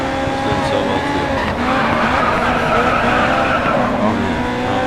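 Tires of a Honda skid and squeal in the racing game Grid 2, a loud sustained screech over steady engine drone lasting the whole stretch, with no break.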